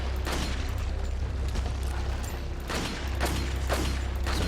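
Bombs blow up in a Resident Evil 4 fight against a giant animatronic Salazar, giving several broad, heavy bursts over a steady rumbling game background, loud and close.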